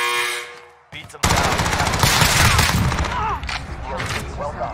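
Rapid automatic fire from a Cold War MP5 in Call of Duty Warzone starts after a brief lull, a loud sustained rattle of shots that keeps going with mechanical clatter, while a player talks over it.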